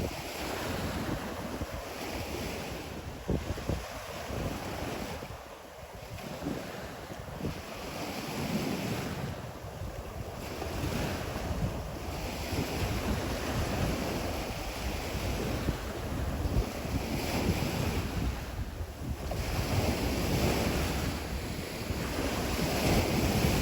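Ocean surf breaking steadily on a Florida east coast shelling beach, a continuous wash of waves with rising and falling swells and gusty wind buffeting the microphone, no voices.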